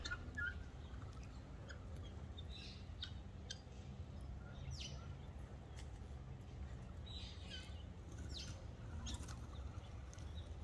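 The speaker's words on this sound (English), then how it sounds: "these guys are just fighting mm, chasing the doves away" Wild guinea fowl scuffle and chase doves outdoors, with wing flaps and scattered short chirps and calls over a steady low background hum; a person talks faintly at times.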